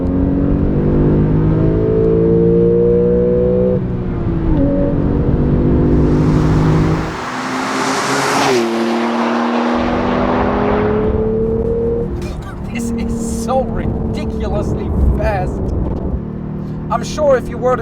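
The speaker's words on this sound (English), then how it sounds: "But once you put some load on the engine," Porsche 911 GTS engine pulling hard under load, a loud rising drone that climbs through the revs, dips at a shift, then swells again, with someone talking over it.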